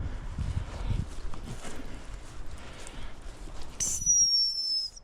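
A dog training whistle gives one sharp, high, sustained blast near the end, after a stretch of quiet outdoor rustling and footsteps.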